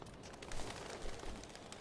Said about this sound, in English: One small flight for this bird